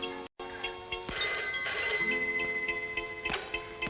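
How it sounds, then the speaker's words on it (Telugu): A telephone rings steadily with a repeating electronic tone, fairly close and alone, with no talking over it. "ఉండు, నేను ఫోన్ చేస్తాను."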